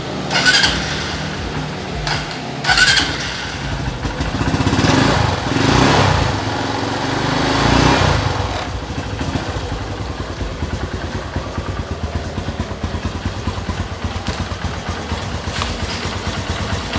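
A Honda New Megapro motorcycle engine cranks and catches, then settles into a steady close idle with a fast, even mechanical patter lasting to the end; no voices.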